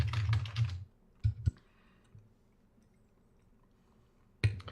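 Someone types on a computer keyboard in quick close bursts of clicks, pauses with near silence and a few isolated taps, then resumes.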